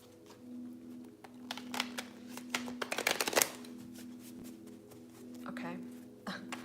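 Tarot cards are shuffled by hand during a live reading, a burst of crisp riffling flicks building to a loud flurry mid-clip and recurring briefly near the end, over a steady low electrical hum, with no talking.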